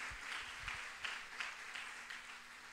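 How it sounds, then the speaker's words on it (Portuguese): A congregation at a Portuguese-language Bible study on Ezra claps together in a faint, distant wash of applause with a loose rhythmic pulse. "Eu quero reconhecer a presença do Espírito Santo com um aplauso bem forte."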